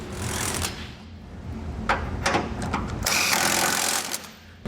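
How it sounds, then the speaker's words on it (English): A 13/16 socket runs a rapid rattling buzz while tightening bolts on a Curt trailer hitch receiver under a 2020 Chevrolet Silverado, the tool noise loud and continuous with short bursts and pauses. "we're gonna take our 13/16 socket, we're gonna go underneath and we're gonna completely tighten our 4 remaining bolts"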